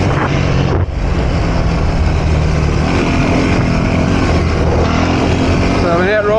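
A dirt bike engine runs loud and steady throughout a ride, with constant wind rushing over the microphone and a rising whine near the end as the bike speeds up.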